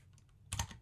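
Brief close clatter of code typed on a computer keyboard, a few quick keystrokes bunched together at moderate volume in a quiet room.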